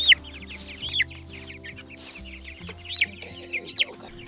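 Several chickens cluck and squawk in a garden coop, close and lively, with sharp repeated calls over a steady low hum in the background.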